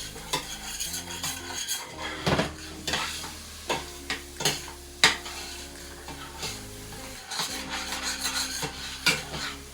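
Onion and garlic frying in a pan for Zuppa Toscana soup, a steady sizzle broken by repeated scraping strokes and clinks of a utensil against the pan, close and fairly loud, with no talking.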